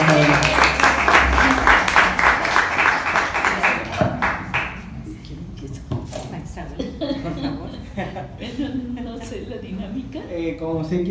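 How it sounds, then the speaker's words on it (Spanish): Audience applause for the teachers at a music gathering in Xalapa, a dense burst of clapping over the first four seconds that thins into scattered claps under loud speech and background chatter. "les pido un fuerte aplauso para la maestra Lourdes, la maestra Lidia y también para la maestra Rafael"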